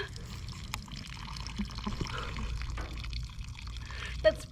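Water sprays from a garden hose over strawberry plants set in stock tanks, a steady hiss and patter running throughout with a brief splash near the end.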